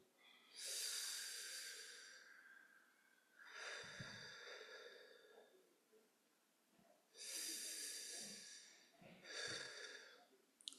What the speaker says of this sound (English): breathe out through the straw